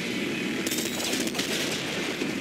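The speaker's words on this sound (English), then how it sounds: "Oh, it fires multiple grenades." Grenade shotgun firing several grenades at once in the top-down shooter Nuclear Throne, a dense burst of game gunfire and explosive blasts rolling continuously at steady, close loudness with no talk.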